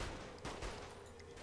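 Scattered bursts of gunfire in Saints Row: The Third, a few quick shots popping in the distance, ending with a sharper, louder hit.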